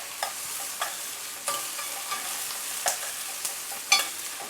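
Onions and garlic sweating in a frying pan for a healthy veggie mince, with a soft steady sizzle and intermittent spoon stirring clinks and scrapes, close and moderately quiet, with no voices.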